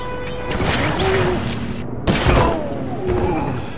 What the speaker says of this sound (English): Shooting rats in a saddlebag!